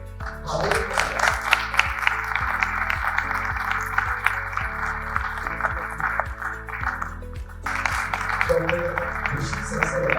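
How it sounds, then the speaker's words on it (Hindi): Audience applause at a university address, a steady wash of clapping layered over sustained music with a regular low beat, fairly quiet and continuous throughout. "एक बार जोरदार तालियों से"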